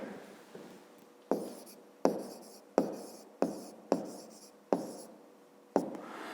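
Pen strokes scratch across paper while numbers are jotted down during a fifth-grade maths exercise, coming as a series of short, sharp scrawls with brief pauses between them, close and fairly quiet.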